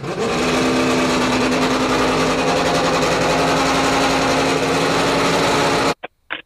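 A Mazda 787B rotary race car engine screams loudly and continuously at high revs with a buzzing, raspy tone for about six seconds, then cuts off, followed by two brief blips.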